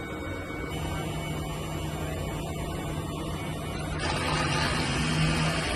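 A DTF printer runs a head cleaning with a continuous mechanical hum and whir, which steps up louder and brighter near the end.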